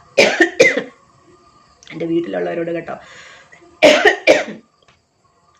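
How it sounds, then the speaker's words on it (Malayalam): Several sharp coughs come in two bursts, one at the start and one near the end, with someone speaking Malayalam in between. "ചുമ വരുന്ന"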